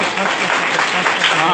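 A short burst of steady audience clapping at a residential school function, loud and close with voices underneath.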